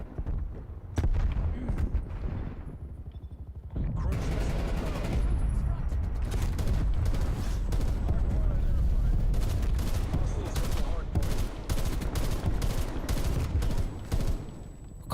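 A grenade blast and bursts of gunfire in a shooter video game: sparse shots at first, then a dense, loud run of rapid firing and booms that goes on to the end.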